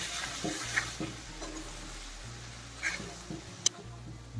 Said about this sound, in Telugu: వంకాయ తీసి కలిపేద్దాం.